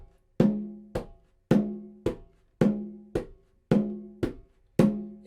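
On a tumbadora, the right hand plays the llamador part of a Puerto Rican plena rhythm: nine sharp, resonant open-tone strikes in a steady, swinging pattern, each ringing briefly before the next. The drum is close and unaccompanied.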